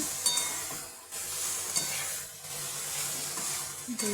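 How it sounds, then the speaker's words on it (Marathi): Smashed jackfruit vegetable stir-fried in a pan with sesame powder, a steady sizzle with intermittent scraping and stirring strokes and a faint clink of a utensil, close up, no talking. "भाजी याच्यात सोडायची आता ही जाईल आपली स्मॅश केलेली फणसाची"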